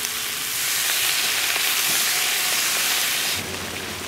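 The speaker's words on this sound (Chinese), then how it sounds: "再加入一碗的水" A bowl of water is poured into a hot pan of sizzling sauce with oyster sauce, light and dark soy sauce and Sichuan pepper leaves. It makes a loud, continuous frying hiss that shifts in tone near the end.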